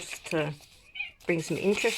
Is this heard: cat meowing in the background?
yes